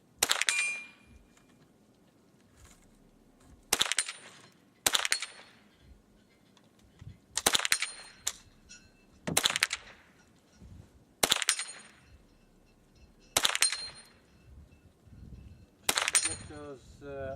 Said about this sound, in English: Just gonna do one more mag here through the Marlin 60.